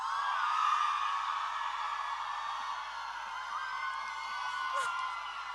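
Crowd at a finance fair in Nigeria screaming and cheering loudly and continuously, a dense wall of whoops and yells that swells and eases over several seconds.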